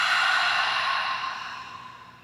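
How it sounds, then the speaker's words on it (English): A slow, deep breath pushed out through the mouth during a Kundalini yoga breathing exercise, a single soft breathy rush that starts full and gradually fades over about two seconds, close and alone without speech. "let it go. Exhale."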